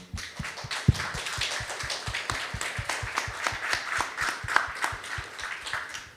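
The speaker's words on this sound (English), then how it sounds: "Can we get a round of applause for them?" Applause at a dispensary's pre-summer launch event, heard as a crowd clapping in a steady, slightly rhythmic beat close by, with no talking over it.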